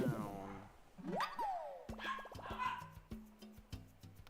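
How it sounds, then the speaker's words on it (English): Dogs bark in a quick series of sharp, yipping barks with a whimpering, rising whine before them, close by but fairly quiet, with a voice talking early on. "those dogs need to calm down"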